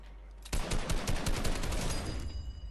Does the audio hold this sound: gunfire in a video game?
yes